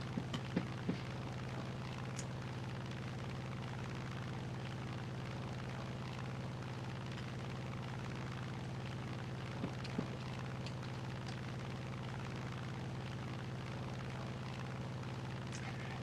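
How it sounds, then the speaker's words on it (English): A B-17 bomber in War Thunder drones steadily, with a continuous engine hum and faint distant thuds of explosions scattered early and midway. No one speaks. "Alright, we got a B-17 and they're destroying destroyers."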